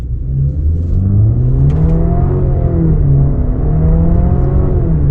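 A 2026 Nissan Murano SV AWD with a 9-speed transmission accelerates in sport mode with paddle shifting, its close, loud engine hum sweeping upward in pitch, dipping at a shift near the middle, then climbing again.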